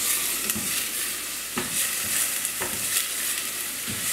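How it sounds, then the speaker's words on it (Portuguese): Garlic fries in a pan for pumpkin soup, a steady bright sizzle broken by a few sharp stirring knocks and scrapes, close and without speech. "tem um dente e meio de alho. Aí dá uma fritadinha."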